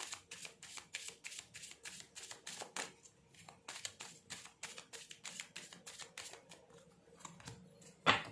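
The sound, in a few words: shuffling tarot cards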